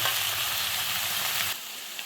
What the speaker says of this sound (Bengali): পটল আলুটা একটু ভাজা ভাজা হয়ে গেছে